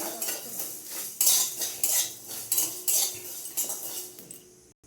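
Bay leaf, cinnamon and dry chillies are dry-roasted in a pan for a vegetarian jackfruit chop masala, with a spoon repeatedly scraping and clinking against the metal in a steady close rhythm, no voices.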